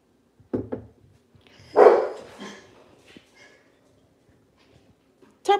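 A dog gives a few sharp barks, a quick pair early and a louder one in the middle, with another bark cutting in at the end; quiet between.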